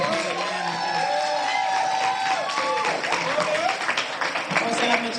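Crowd clapping and cheering for a campaign manager at a primary election night event, dense applause with whoops and voices mixed in, loud and close throughout.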